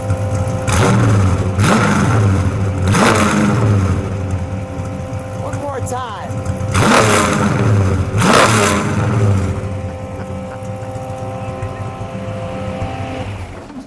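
A 426 Max Wedge V8 of almost 800 horsepower in a 1963 Plymouth Savoy revs hard several times in loud bursts over a rumbling idle, with people talking briefly between the revs.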